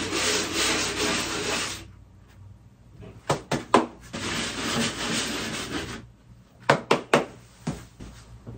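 Long stretches of steady abrasive rubbing as a dried Roman Clay plaster coat is sanded on a wall, broken by a pause and a few sharp knocks and taps.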